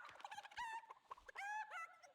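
Video game chickens clucking in a quick burst of short squawks and clucks, rising twice into longer shrill cackles, clear and close, with no talk.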